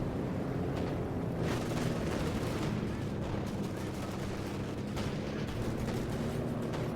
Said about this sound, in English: So we have the missile launcher going off